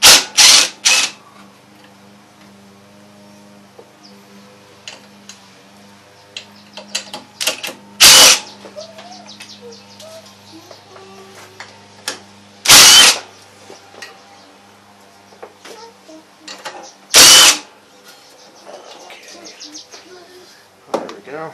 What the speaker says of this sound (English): we're going to take four 10mm bolts off.